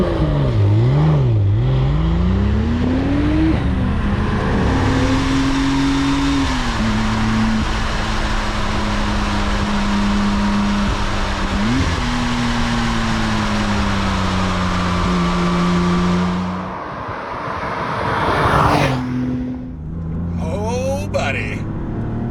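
A Porsche 964 reimagined by Singer as a Turbo, its engine droning steadily while driving with rising and falling revs, loud and close, some shifts in pitch, with talk over much of it.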